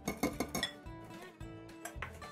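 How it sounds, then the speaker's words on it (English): A whisk clinks quickly against a bowl while mixing flour with baking soda and salt, a brisk run of light metallic taps followed by a few softer strokes. "I'm just going to give it a quick whisk to put it all together"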